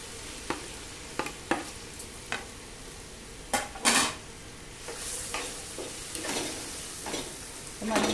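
Ripe plantain pieces fry in a pan, with scattered spoon scrapes and knocks as they are stirred over a low, steady sizzle; the stirring comes in irregular bursts and nobody talks.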